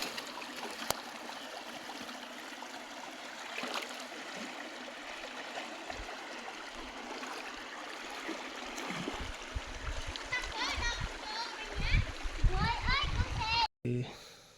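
A countryside stream flows and splashes steadily, mostly faint beneath children's voices talking nearby.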